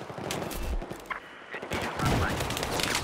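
Dense gunfire fills a Battlefield 4 capture-the-flag match on the Propaganda map, with rapid bursts and shots layered over a busy battle din, loud and continuous for about three seconds.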